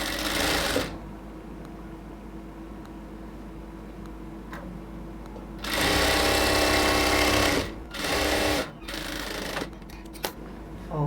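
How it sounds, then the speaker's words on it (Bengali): Sewing machine stitching a cotton dress, running in steady bursts with short pauses between, loud and close, with brief clicks and handling noises in the gaps. "এবার আমরা এটাকে একদম উপরের দিকে ফিনিশিং করে ধরে আরও একটা সেলাই দিয়ে নেব।"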